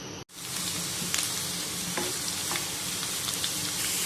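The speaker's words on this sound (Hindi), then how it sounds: "अब हम इसके अंदर एक छोटी प्याज स्लाइसिस में कटी हुई ऐड करेंगे और इसको फ्राई कर लेंगे" Sliced onion frying in a cup of oil in a pan, with a dense continuous sizzle and crackle that starts abruptly after a brief gap and carries on close and steady.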